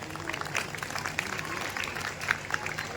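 An audience applauds at a Ramlila staging of Shri Ram's coronation in Bharatpur, with scattered, moderately faint clapping spread through the crowd and a few sharper claps standing out.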